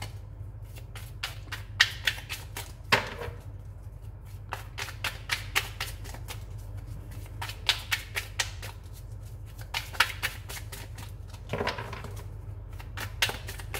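Tarot cards are shuffled by hand close up, giving quick bursts of crisp riffling and slapping that come in clusters with short pauses between them, set against a faint low background hum.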